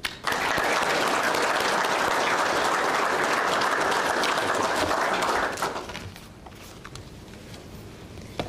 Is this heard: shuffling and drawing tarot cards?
no